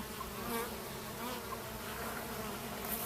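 Honey bees buzz around a hive in a dense, continuous drone, steady and fairly faint, with no other sounds.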